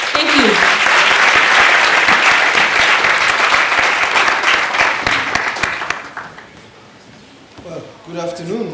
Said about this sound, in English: Please do give him a hand of applause.